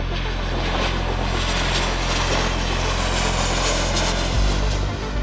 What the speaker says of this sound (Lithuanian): Leidžiasi dar vienas.